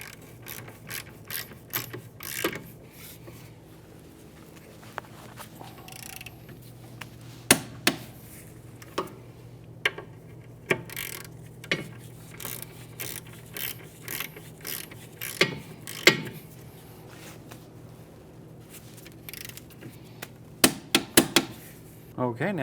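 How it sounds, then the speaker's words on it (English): A torque wrench ratchets and tightens the rear brake caliper bracket bolts on a 2011-2017 Honda Odyssey, giving crisp, close clicks in irregular bursts with quiet gaps between them. "we can torque these down to 65 foot-pounds"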